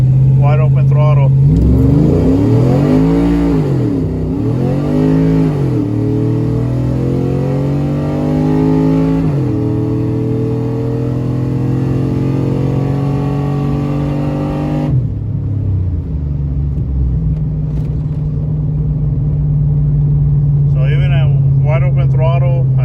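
Car engine with a 6L80 transmission swap revving hard at wide-open throttle on a launch from a stall-up, loud and close with rising and falling rev sweeps, then settling to a steady drone; a person talks over it.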